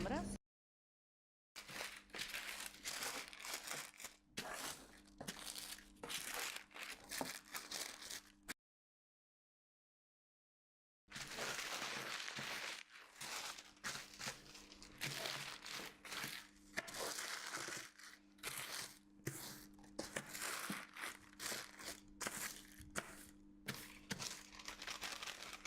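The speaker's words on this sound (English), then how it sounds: "I do it to straighten the paper." A sheet of pattern paper is handled and smoothed flat, giving close, bursty crinkling and crackling in repeated handfuls, broken by a few seconds of silence partway through.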